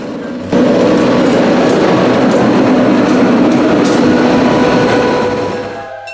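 A Cincinnati Scenic Railway train rolls past close by, a loud steady rumble with clickety-clack of wheels over rail joints and faint wheel squeal, starting abruptly and fading near the end.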